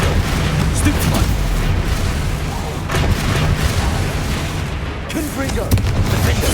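Booming, rumbling blast of a Confringo spell in Hogwarts Legacy, a continuous loud wash of explosive noise with several sharper bursts over about six seconds, mixed with voices speaking over it.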